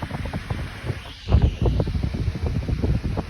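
A cool breeze buffets a microphone on a rooftop, making a steady low rumbling wind noise with stronger gusts after the first second.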